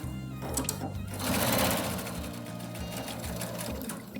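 A sewing machine stitching through a quilt, running in a steady close mechanical whir with rhythmic needle chatter that swells midway, alone without talk.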